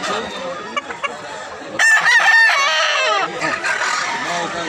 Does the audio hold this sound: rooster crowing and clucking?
yes